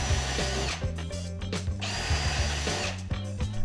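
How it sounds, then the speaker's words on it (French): A power drill pre-drills fixing points in a wooden batten, its motor whining steadily and close up, with the pitch dipping and rising as the bit bites into the wood and releases. "Ensuite, prépercez les points de fixation sur cette ligne."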